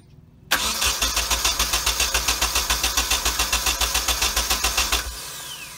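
A Nissan 240SX with a KA24DET engine cranks on the starter in a fast, steady, rhythmic chug for about four and a half seconds, loud and close, then cuts off without catching.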